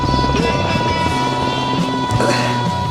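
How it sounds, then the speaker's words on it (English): A helicopter flies overhead, its rotor and engine making a loud, steady droning roar that holds continuously for the whole few seconds with no pause. "Helicopter."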